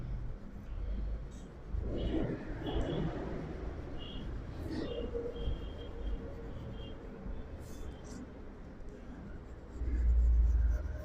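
A skirt pattern is traced onto paper. Soft, scratchy strokes drag across the sheet in short bursts over faint background hum, and a low thump comes near the end.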